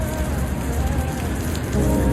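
Dense, steady rain pattering on a surface in one small patch, a continuous close hiss and splatter with slightly louder drops near the end, no voices.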